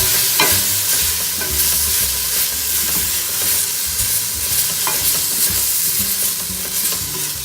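Laksa paste fries in a saucepan on moderate heat, giving a steady close sizzle with the scrape and clack of stirring. No one speaks.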